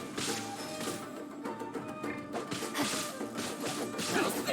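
A shattering, glassy crash effect from Genshin Impact as an illusion shatters, with repeated bright smashing bursts and swishes layered over a busy background.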